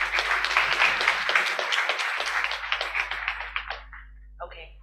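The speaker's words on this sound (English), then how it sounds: "he deserves another round of applause" Conference audience in Nairobi giving a round of applause, a crowd of clapping hands that is loud at first and thins out toward the end, with some voices mixed in.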